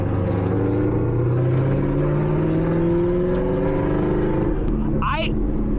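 A Camaro ZL1 on Toyo R888R tires rolls along a gravel road, its steady engine drone and tire rumble loud and continuous from inside the car, with a brief higher whine near the end.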